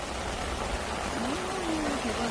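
Steady, soft patter of autumn rain falling on a fishing parasol overhead at a reservoir, a continuous hiss with a faint tonal hum underneath.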